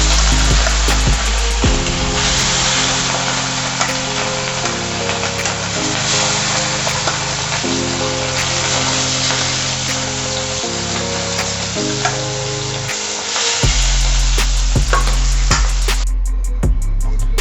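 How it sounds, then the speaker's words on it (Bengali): Katla fish pieces fry in hot mustard oil in a kadai, a loud, steady crackling sizzle throughout, with sustained background music tones and a brief dip and clatter near the end; no speech. "মাছগুলো ভালো করে দু পিঠ ভাজা করে নিতে হবে"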